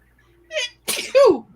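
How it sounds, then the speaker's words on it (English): A single close sneeze: a short intake of breath, then a sharp explosive burst with a voiced tail, loud and alone. "I gotta sneeze again."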